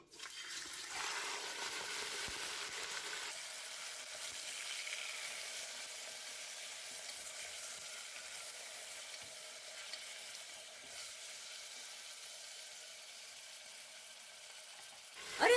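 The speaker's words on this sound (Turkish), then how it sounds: "Hemen bu yağın üzerine 1 kilo kuşbaşı doğranmış dana etini katıyorum" One kilo of diced beef for Turkish kavurma hits hot fat in a pan over high heat, giving a loud sizzle that eases into a steady, softer frying hiss, with a brief clatter at the end.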